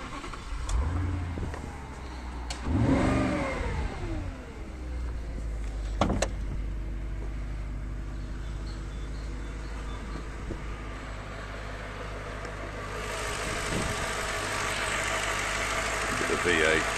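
An Audi S4 4.2 V8 Quattro Cabriolet, a 40-valve twin-cam fuel-injected engine under an open bonnet, cranks and fires, revs briefly, then settles into a steady, fairly loud idle, with a voice speaking near the start.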